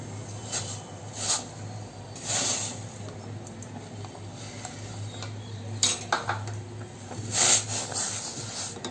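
Rice flour being stirred into boiling water in a pot for ukadiche modak, with a spoon repeatedly scraping and knocking against the metal pot over a low steady hiss and bubbling.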